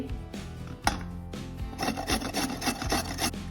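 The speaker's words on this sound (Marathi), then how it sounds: "आता तुम्ही बघू शकतात ओल्या नारळाचा कसा किस तयार होत आहे अशा प्रकारे मी सर्व खोबऱ्यांचा किस करून घेणार आहे" Fresh wet coconut grated by hand for coconut kheer, a steady rasping scrape repeating in short strokes, close and fairly quiet with no talk.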